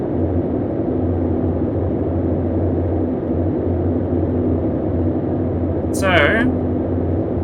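Radial engines of a Boeing 247 airliner drone steadily from inside the aircraft, a loud even rumble with a constant hum, and a voice briefly speaks near the end.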